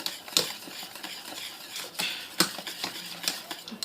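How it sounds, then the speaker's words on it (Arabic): A spoon stirs cream with melting cheese in a pot for a semolina cake, with soft, irregular scraping and light clinks repeating up close, and no talking. "هاد لاكريم غنخلطوها دابا، حيدتها من فوق العافيه"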